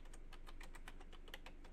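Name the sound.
typing on a computer keyboard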